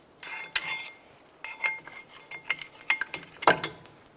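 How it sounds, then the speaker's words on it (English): Brake pads being pulled from the caliper of a Cadillac DTS, a few close metallic clinks, scrapes and rattles spread over a few seconds, with no talking. "Let's go ahead and remove our brake pads."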